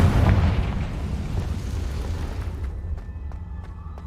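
A Confringo explosion spell in Hogwarts Legacy, a loud close blast with a deep rumbling boom that decays over a few seconds into a quieter tail.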